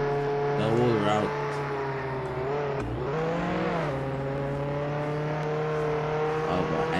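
A car engine in a Roblox driving game drones steadily with rising and falling pitch as it accelerates and shifts, loud and continuous throughout, with a player talking over it.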